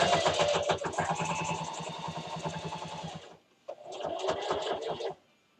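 A sewing machine stitching a quilted pot holder runs in a steady rapid chatter for about three seconds, pauses briefly, then stitches again in a second shorter burst, fairly close and moderately quiet with no talk.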